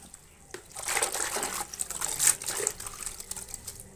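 Red spinach leaves are washed by hand in water, giving close splashing, swishing and trickling that rises and falls in bursts for a few seconds.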